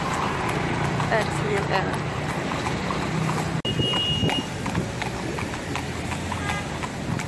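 Horse hooves clop steadily during a carriage ride through busy Marrakech streets, mixed with traffic noise and wind while people talk.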